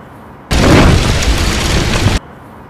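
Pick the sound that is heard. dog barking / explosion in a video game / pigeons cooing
explosion in a video game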